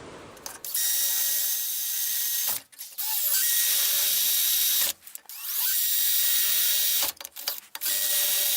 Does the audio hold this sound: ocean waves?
no